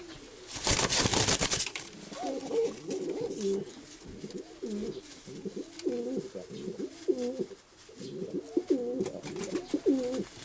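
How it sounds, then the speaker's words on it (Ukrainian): A young white-tailed pigeon coos, a male chasing his mate toward the nest, in a steady series of low, rolling calls, close and clear after a brief loud flutter of wings at the start. "Ось така голубонька."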